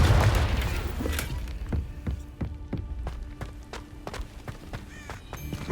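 A Confringo blasting spell explodes in the Hogwarts Legacy video game: one loud, booming burst at the start that fades. A steady run of rhythmic, hoof-like clip-clop steps follows.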